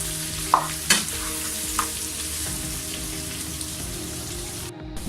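Mutton karahi with red chilli, turmeric and salt sizzles steadily while a utensil stirs and scrapes the pan in a few distinct knocks.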